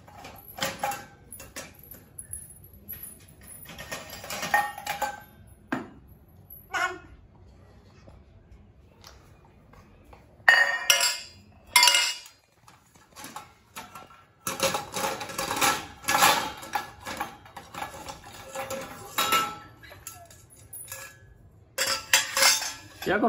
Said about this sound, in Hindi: सारे बर्तन बाहर निकाल निकाल के रख रहे हो?